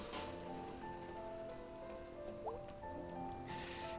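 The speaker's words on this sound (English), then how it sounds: "It's wet again, and I'm cold again. It's just rain." Steady rain patters on the ground in the video game Night in the Woods, a soft even hiss throughout, with faint tonal game sounds and a brief chirp over it and a louder burst near the end.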